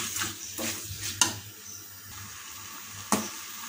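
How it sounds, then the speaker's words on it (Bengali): Chicken pieces and potatoes stir-fried in a pan for chicken ghugni, a soft sizzle broken by scraping spatula strokes and a couple of sharp metallic clinks against the pan. "আলু আমরা যোগ করে দিয়েছি, এবার এটাকে ভালো করে কষিয়ে নেব।"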